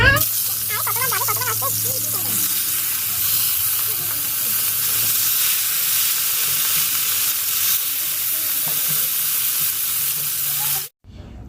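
Small fish coated in onion, chili, salt and turmeric fry in hot oil, giving a loud, steady sizzle throughout. A voice talks briefly at the start, and the sound cuts off abruptly near the end.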